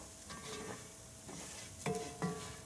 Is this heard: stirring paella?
yes